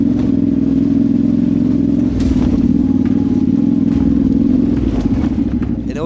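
Big motorbikes climb a steep, wet, rocky lane with a loud, close, steady engine drone that rises and falls with the throttle, broken by a few sharp knocks from rocks.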